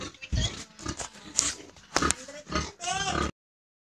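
A boar brought to a sow grunts repeatedly and close by, in short rough bursts with a few squealing rises, and the noise ends abruptly.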